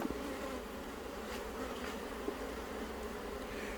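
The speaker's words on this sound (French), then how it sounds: "Vous remarquez en même temps la douceur de l'abeille africanisée, hein, qui n'est pas absolument systématiquement fâchée contre tout le monde" Africanized honeybees fly around a hive frame in an active colony, making a continuous, even buzzing hum at moderate level with occasional louder passes of single bees, and no speech.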